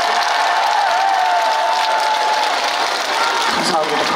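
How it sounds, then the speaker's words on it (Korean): An outdoor crowd at a seaside port festival trot concert in Siheung applauds steadily for several seconds, with scattered cheering and a sustained tonal hum running through the clapping. "잘했다 생각하시면 박수 한 번 치시겠어요?"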